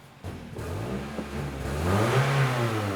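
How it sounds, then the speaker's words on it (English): A Toyota Corolla engine with a long-cranking start and its check engine light on revs up, the pitch climbing steadily and loudening over a few seconds, close up with no talking. "when I rev up the engine, I feel a little delay"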